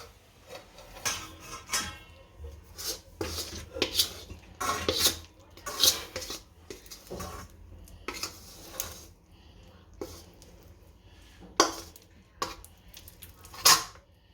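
A metal plate and utensils clink and clatter in a home kitchen while daliya chikki is being made, with repeated sharp bright knocks and scrapes arriving in irregular bursts and no talk.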